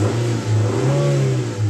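A car engine revs up and eases off in a few rising and falling pulses, close and loud, with a steady low hum underneath.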